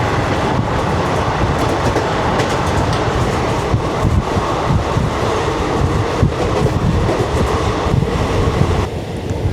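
A MEMU train running into Payyanur station, heard from on board: continuous wheel rumble and rail clatter with rhythmic clicks and rattles, loud and close, with no voices.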